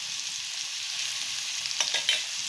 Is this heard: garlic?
yes